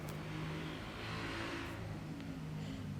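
A motorized tricycle passes by outside, a muffled mid-pitched engine hum swelling gently and fading over a few seconds, distant and fairly faint.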